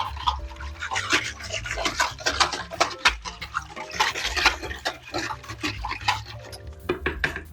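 A spoon clinks and scrapes against a measuring cup while salmon brine is stirred, sharp repeated taps and swishes of liquid in a rapid, uneven rhythm, close by.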